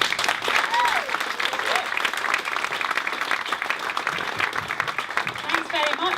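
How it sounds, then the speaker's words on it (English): Audience applause fills the room for a stand-up comedian being welcomed onto the stage, with steady dense clapping and some cheering throughout. "let's give her a really welcoming round of applause"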